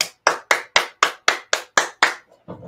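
A voice imitates applause, with about nine sharp, evenly spaced claps made by mouth or hands and a faint rustle after them, close and dry.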